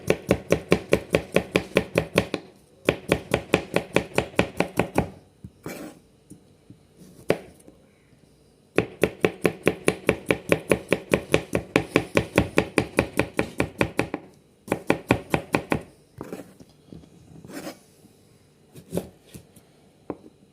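A knife chops food on a cutting board in a kitchen, fast rhythmic bursts of sharp close taps separated by brief pauses, with no voices.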